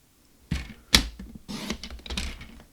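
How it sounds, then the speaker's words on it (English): Designer series paper being cut to size for a frame card, a few sharp crisp snips and slicing strokes close up, with short rustling paper handling between cuts. "I know I need to cut this to 4"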